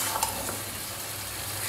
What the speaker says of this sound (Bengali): সবজিটা কষিয়ে নিচ্ছি।